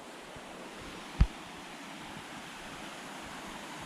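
A waterfall flowing in a forest, a steady broad rush of falling water heard up close with a single brief knock partway through and no talking.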